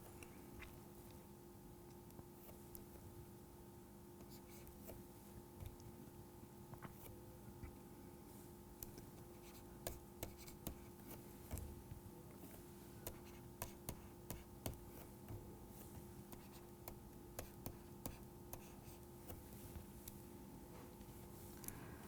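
A pen scratches and taps across a page during a mathematics lecture on curved surfaces, quiet intermittent strokes and clicks over a low room hum with no talking.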